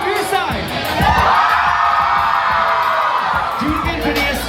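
A crowded audience at a Disney Channel night event screaming as loud as they can, a sustained roaring wave of shouts and whoops that swells, holds, then fades and rises again.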